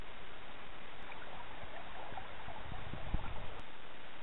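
The East Verde River on the Arizona Trail rushes steadily throughout, a broad, constant wash of flowing water heard up close with no voices.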